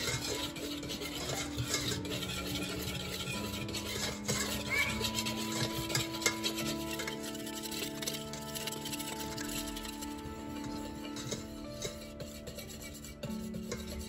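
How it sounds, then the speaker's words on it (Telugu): Cake batter with cocoa powder stirred by hand in a bowl for an oven-free chocolate cake, a steady scraping and swishing that continues through the stretch, with tonal background music playing underneath. "ఇవన్నీ బాగా కలిసేంత వరకు ఉండల లేకుండా బాగా మిక్స్ చేసుకోవాలి"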